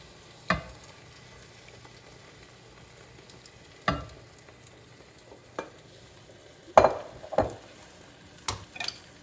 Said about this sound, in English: Just give that a nice stir and let that simmer on the medium-high heat for about 10 minutes.